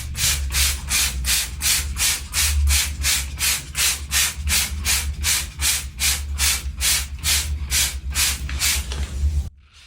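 An electric scrub brush whirs as it scrubs a tub in a steady run of about twenty rapid, even strokes, loud and close with a constant motor hum beneath, no talking, ending abruptly.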